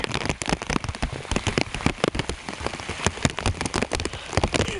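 Heavy rain pours down outdoors, a loud, dense patter of drops hitting the ground and puddles close at hand, continuous with no voices.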